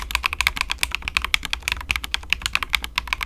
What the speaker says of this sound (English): that's a really clacky keyboard